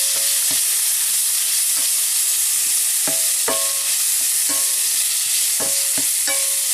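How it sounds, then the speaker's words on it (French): Balsamic onions are stirred into chicken gizzards in a hot pan: a steady broadband sizzle with sharp, irregular spoon clicks and scrapes against the pan, close up and with no talk. "On incorpore les oignons balsamiques."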